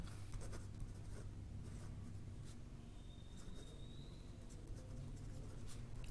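Marker or chalk scratches across a classroom board during a class 8 maths lesson on compound interest, a continuous rubbing and scratching texture with short strokes, close and steady against a noisy room background.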